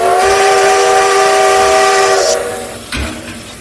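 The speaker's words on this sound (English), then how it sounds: "No, Chico, Bessie Lou is the name of the locomotive." A steam locomotive named Bessie Lou arrives on a railroad, its loud whistle blowing steadily for about two seconds before cutting off, followed by hissing steam and clanking over the rumble of the train.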